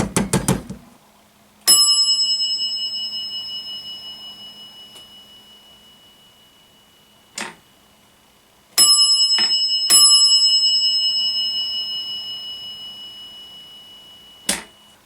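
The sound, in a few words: elevator car up indicator bell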